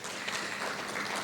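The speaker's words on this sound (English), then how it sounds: "a round of applause to Oriental Lotus Hospitality Solutions Private Limited" Audience applause at a hospitality association's ninth anniversary event, honouring Oriental Lotus Hospitality Solutions: a steady, dense wash of clapping from a crowd, even in loudness throughout the short burst.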